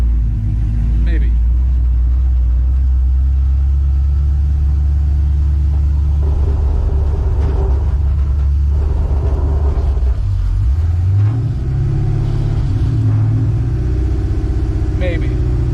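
A 1968 Chevrolet C10 pickup's engine rumbles steadily as the truck is driven, a low continuous drone with some rising revs toward the end.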